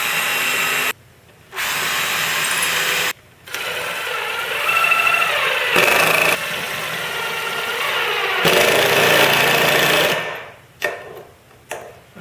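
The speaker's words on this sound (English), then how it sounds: "What I'm doing now is just driving them in a little deeper." A power driver sinks temporary drywall screws deeper into a rotary tool drill press build, with repeated close whirring bursts separated by brief stops, rising and falling in pitch, then trailing off into short spurts at the end.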